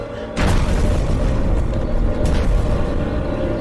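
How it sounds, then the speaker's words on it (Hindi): A deep, sustained explosion blast erupts suddenly and rolls on as a heavy, loud roar with a second surge near the end. "ये कैसा धमाका?"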